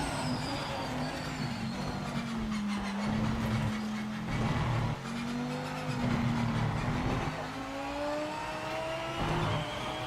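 A BMW Hypercar in the Project Motor Racing video game, its engine note rising and falling through gear changes in a continuous loud drone, with occasional tire noise.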